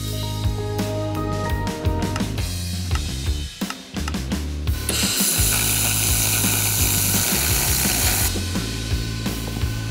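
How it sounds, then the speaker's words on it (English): An xTool MetalFab laser welder with a wire-feed gun welds Karmann Ghia sheet metal, giving a loud, steady, dense crackling buzz with brief dips and one short pause, and no talking. "you pull this one and it feeds the wire out and pushes the gun backward at the right rate to get a perfect weld bead"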